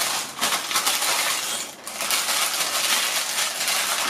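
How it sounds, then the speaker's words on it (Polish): Crinkly baking paper rustles and crackles continuously up close as it wraps pork, with brief dips as it is folded and pressed. "Papier do pieczenia."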